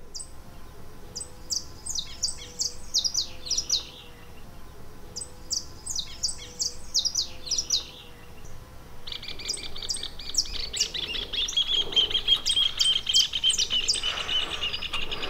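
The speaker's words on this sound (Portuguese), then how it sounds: "aqueles canarinhos ficam o dia todo ali cantando" Canaries sing in repeated bright, rapid trilling phrases, with a denser burst of chirping near the end over faint background hum.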